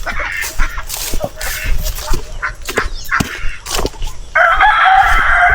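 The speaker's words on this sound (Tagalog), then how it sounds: "yung ating mga native na manok, putak ng putak" Native chickens on a farm cluck and crow repeatedly in irregular bursts, loud and close, with a sustained, harsher crow near the end over rustling background noise.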